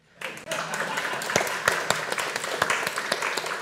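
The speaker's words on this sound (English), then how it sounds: "And clap for them." Standing audience at a talk bursts into lively clapping, a close, crackling wash of hand claps with a few louder individual claps standing out, continuing steadily throughout.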